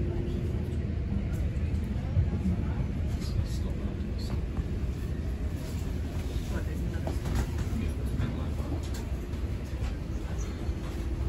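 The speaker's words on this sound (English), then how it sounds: "The train has just arrived at Katoomba." A train rumbles steadily with a low, continuous mechanical roar, slowing as it pulls into Katoomba station in the Blue Mountains.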